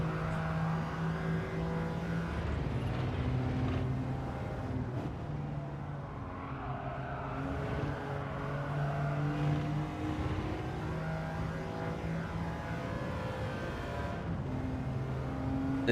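Race car engines in a video game time trial, with a blue car and a red car on 18-inch standard wheels and no aero, droning and revving steadily and loudly throughout with layered engine tones and no talking.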